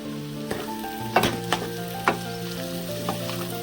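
Spinach and potato curry bubbles gently in a pot over low heat, a soft continuous sizzle with a few sharp clicks and pops and a steady tonal hum in the background.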